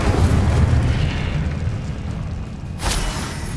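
A fire spell explodes in the Hogwarts Legacy video game as a loud, roaring, rumbling blast that churns steadily, then flares again in a sharp burst near the end.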